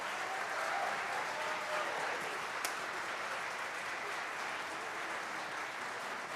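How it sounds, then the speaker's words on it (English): Concert audience at a high school band and orchestra performance applauding steadily, a broad continuous wash of clapping over six seconds with one sharp click partway through. "So can you give an extra hand and a round of applause to all the extra work that these students put in?"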